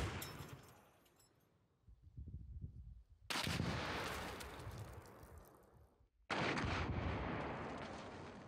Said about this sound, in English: we'll see how accurately the combat module fires after calibration